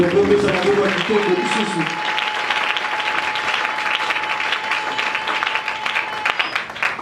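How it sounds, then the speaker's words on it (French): A church congregation at an Easter service bursts into loud, sustained applause and cheering, a dense wash of clapping that carries on steadily for several seconds, with voices and a singing or speaking tone audible at the start. "Est-ce qu'on peut acclamer pour toi?"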